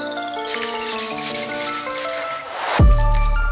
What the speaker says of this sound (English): I'm gonna actually take some 800 grit and try to sand it down real lightly